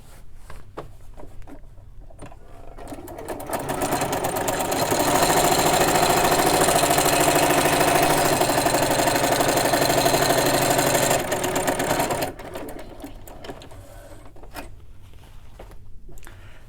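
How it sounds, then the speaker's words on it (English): A sewing machine stitching a fabric roll-up organizer runs in a steady, close, buzzing whir that ramps up to full speed for several seconds and then slows, with light handling clicks before and after. "I'm going to move these two over like this and keep these two together and sew down this line."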